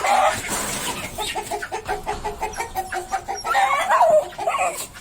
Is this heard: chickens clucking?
yes